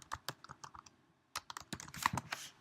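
Typing on a computer keyboard, close and fairly quiet: quick bursts of light key clicks, a short pause, then a faster, busier run of taps with a few louder keystrokes.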